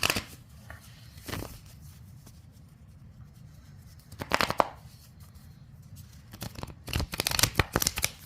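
Tarot cards shuffled by hand in bursts of riffling and sliding, close and crisp, with quiet pauses between flurries and a busier run near the end.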